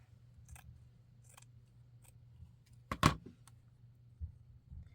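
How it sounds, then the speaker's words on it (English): Scissors cut a small piece of lace with one sharp, close snip near the middle, preceded by a few faint rustles and ticks in a quiet room. "So I'm just going to cut a small piece of lace."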